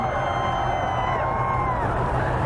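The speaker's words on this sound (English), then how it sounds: "They're cheering." Crowd cheering and whooping at a total solar eclipse, a continuous wash of many excited voices mixed with babble, sustained and fairly loud throughout.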